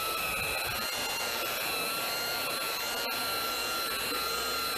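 A rust buffer works over a rusty car body, its motor whirring steadily and loudly with a brief dip near the middle.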